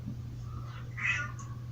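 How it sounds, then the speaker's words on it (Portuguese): A pet cat gives a single short meow, fairly close and clear, over a steady low hum in an indoor room where fabric painting is underway. "Gatinha miando."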